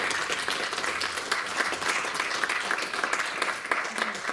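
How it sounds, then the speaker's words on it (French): An audience at a French railway and environment conference applauds with dense, sustained clapping that stays fairly even throughout. "Ne vous fatiguez pas trop en applaudissements"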